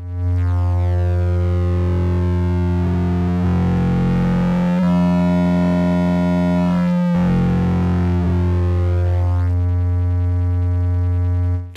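A buzzy synthesizer tone holds a steady low pitch while bright overtones sweep up and down, producing the harsh, vocal-like shifting timbre of oscillator sync.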